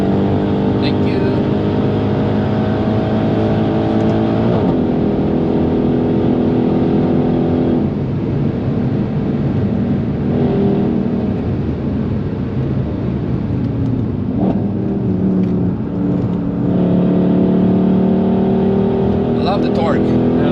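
Mercedes C63 AMG Black Series with its 6.2-litre V8 at the Nürburgring, droning loudly and steadily with rising and falling revs throughout, under people talking inside the car.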